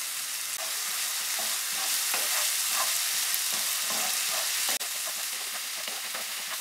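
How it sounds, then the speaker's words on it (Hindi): Chopped tomato cooking with salt and turmeric in a pan for Chettinad fish masala, a steady close sizzle and hiss throughout with scattered stirring scrapes and one sharp tap near the end, no voices. "जब तक टमाटर अच्छे से सॉफ्ट हो जाते हैं, इसको पका लेंगे।"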